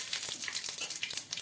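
Mustard seeds, cumin and curry leaves crackle in hot oil for a dry potato bhaji: a close, steady sizzle with a rapid scatter of sharp pops and spits throughout.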